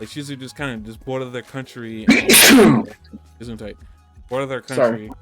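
A loud, close sneeze bursts out once in the middle of a podcast discussion about an anime, with people talking before and after it.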